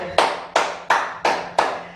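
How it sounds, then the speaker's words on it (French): Five crisp hand claps in a steady, evenly spaced rhythm close by, ending a full-body muscle-strengthening fitness class. "Vous pouvez vous applaudir."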